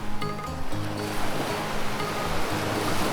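Loud, continuous rush of surf washing onto Aare Ware beach in Ratnagiri district, Konkan, a broad roaring wash with no voices.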